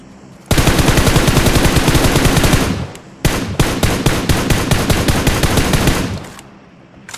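Loud, close automatic gunfire in PUBG Mobile rattles in two long sustained bursts of rapid shots, separated by a brief gap.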